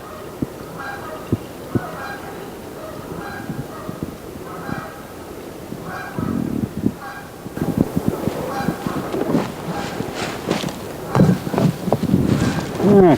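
Waterfowl by a river call repeatedly in honking, goose-like bursts at close to moderate distance. The calls grow busier and louder toward the end, with some nearby movement mixed in.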